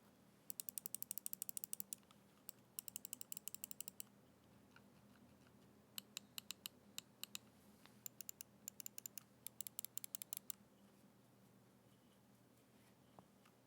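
Scroll wheel of an Xtrfy MZ1 gaming mouse, quiet close ratcheting clicks in rapid bursts with short pauses between spins, then a few sparse single notches near the end.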